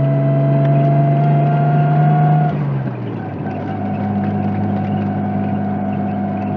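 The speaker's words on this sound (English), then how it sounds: "it still makes a little bit of gear whine from the transmission" A sustained high transmission gear whine rides over the engine hum of a Nissan S13 240SX with a swapped RB20DET engine, then drops in pitch as the car shifts and keeps driving; no talking.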